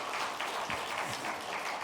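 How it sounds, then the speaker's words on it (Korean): Applause from a church congregation at a thanksgiving worship service, a steady dense clapping that fills the whole stretch without a break. "다시 한번 박수 부탁드리겠습니다."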